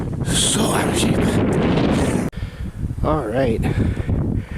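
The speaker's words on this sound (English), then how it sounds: "Sorry about the wind again." Wind on open South Dakota antelope-hunting country buffets the microphone in broad, rumbling gusts, with a voice talking briefly partway through.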